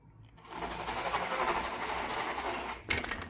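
Electric hub motor of an ENGWE P20 folding e-bike under throttle, a steady mechanical whir with road rumble that builds for about two and a half seconds before a brief drop and a renewed surge.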